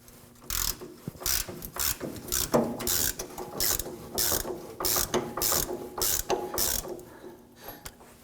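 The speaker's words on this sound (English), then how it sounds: "we're gonna use our 21mm wrench like we did on the front bolt" 21mm ratchet wrench spinning a nut off a truck alignment bolt on a 2015-2020 Ford F-150 camber kit, rapid loud ratcheting clicks in repeated bursts with short pauses, close up.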